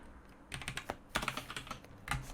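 Keyboard typing in short bursts of quick clicks, several volleys of keystrokes with brief pauses between them, close and clear with no talk.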